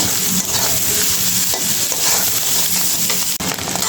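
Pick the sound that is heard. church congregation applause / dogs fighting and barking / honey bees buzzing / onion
onion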